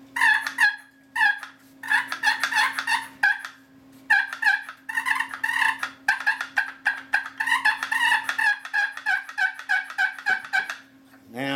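A 7-in-1 push-button turkey call with rubber bands of different strengths gives rapid series of clucks, yelps and gobble-like rattles in close, loud bursts, with short pauses between runs.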